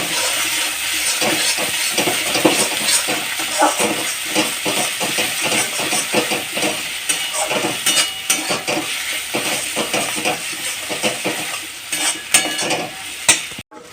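Cashew paste hits a hot, sizzling pan while cooking doi katla, with loud frying hiss and repeated scraping stir strokes from a spatula, close and continuous throughout without talk.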